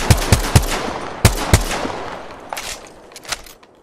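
Rapid gunfire in Apex Legends: a quick burst of three close, sharp shots, a pause, then two more cracks. Fainter, more distant shots trail off toward the end.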